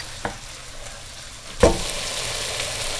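Fresh chopped celery leaves and dry mint drop into a sizzling Persian celery stew, giving a soft thump and then a steady frying hiss with light stirring.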